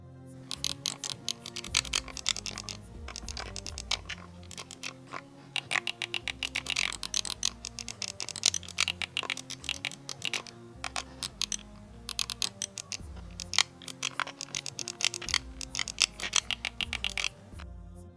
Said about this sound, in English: The Blitz 2 is packed with 16 mechanical buttons that give you that crisp, tactile click with every press.